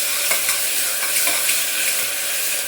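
Chopped onion and tomato sizzle and fry steadily in a hot pan as they are sautéed and stirred, a bright continuous crackle heard up close with no talking.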